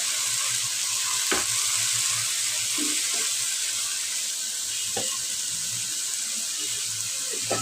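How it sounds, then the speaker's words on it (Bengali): Spice paste sautéing in a pan for a raw fish and eggplant curry, a steady close sizzle with a few sharp scrape and stir clicks, no talking. "মশলাটা কষিয়ে নিচ্ছি এখন দিয়ে দিচ্ছি মশলা"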